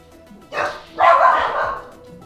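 Two close bursts of dog barking, a short yap followed by a longer, louder bark, with quiet room noise between and after.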